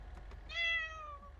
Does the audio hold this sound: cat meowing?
yes